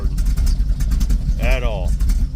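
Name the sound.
big-cam engine idling after a cold start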